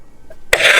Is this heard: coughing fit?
yes